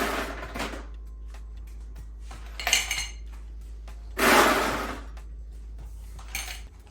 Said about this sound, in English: And then you get a lowball glass, fill that up with some ice.